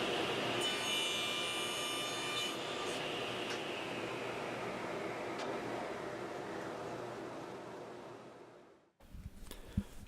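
Plywood pieces for a rolling planer cabinet are cut to length with a saw, a steady close rasping cut that gradually fades, ending in an abrupt stop followed by a few faint handling knocks.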